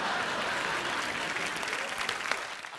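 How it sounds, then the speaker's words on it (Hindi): A studio audience at a comedy talk show claps in a sustained burst of dense applause that tapers slightly toward the end. "बड़ी बड़ी तालियां।"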